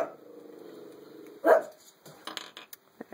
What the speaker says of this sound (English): My dogs are starting to play down there